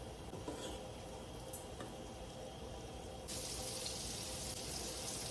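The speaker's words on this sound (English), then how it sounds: "So I will start putting the akara in the hot oil." Akara lentil fritters drop into hot oil for a Nigerian breakfast, a steady quiet sizzle and crackle that suddenly brightens and intensifies partway through as more batter hits the pan.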